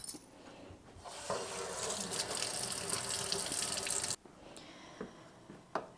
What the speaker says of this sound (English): I'm going to go ahead and turn this water on